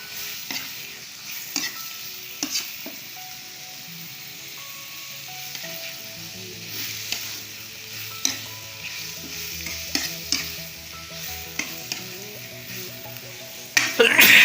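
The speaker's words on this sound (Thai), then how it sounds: "ผัดให้เข้าเนื้อเลยนะครับ" Spicy pork stir-fried in a pan for a northern Thai dish, a continuous sizzle broken by repeated scraping strokes of a utensil at an irregular rhythm, close and moderately loud.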